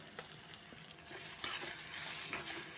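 Tomatoes fry in a pan just after salt is added, with a steady close sizzle and faint stirring scrapes throughout.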